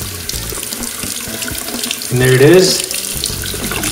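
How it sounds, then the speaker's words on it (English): Hot water running from a household tap into a sink after a water heater was drained of sediment, a steady close splashing stream that swells louder midway, with a brief spoken remark over it. "I've got hot water running now."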